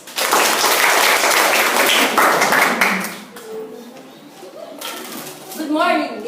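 School debate audience of Grade 9 students giving a round of applause, loud dense clapping for about three seconds that fades away, followed by quieter sounds and a voice starting to speak.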